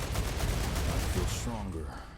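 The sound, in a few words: artillery-type attack by enemy bugs in StarRupture video game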